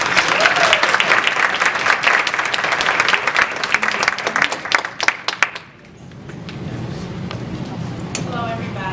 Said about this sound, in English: Let's give Brandy a round of applause.